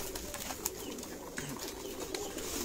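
Pigeons of mixed breeds at a Sialkot loft coo softly and continuously, with faint rustling and occasional brief sharper sounds, no talk.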